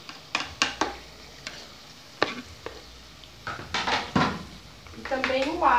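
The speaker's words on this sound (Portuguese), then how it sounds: "a carne já está bem fritinha, então agora eu vou colocar aqui a cebola." Onion going into a pan of already well-fried meat in a home kitchen, with sharp scraping and stirring clatters and a rising sizzle toward the end, while someone talks over it.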